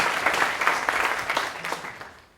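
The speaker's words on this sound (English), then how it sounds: "Give them a great round of applause" An audience at an MIT Enterprise Forum San Diego event applauds in a steady burst of clapping that fades toward the end, with no talking over it.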